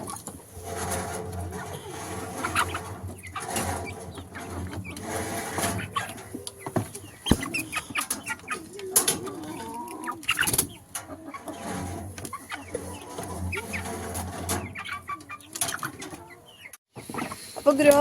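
Chickens in a coop cluck repeatedly at their feed, a busy near chorus of short calls with occasional scuffling and a person talking over them.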